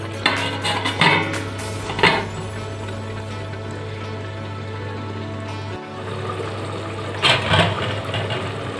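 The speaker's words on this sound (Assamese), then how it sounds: "এইখিনি ঢাকোন এখন দি দিছোঁ।" A metal lid clanks down onto a pot of simmering chicken curry, giving a few sharp clinks and knocks spread over a steady low hum, with no talking.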